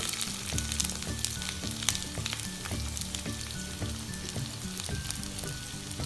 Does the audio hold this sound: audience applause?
no